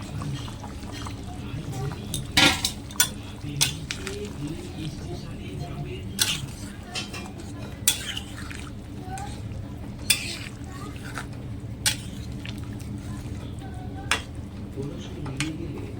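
Rohu fish pieces go into a pan of Bengali curry, with a low bubbling simmer broken by sharp clinks and knocks at irregular intervals, up close and without speech.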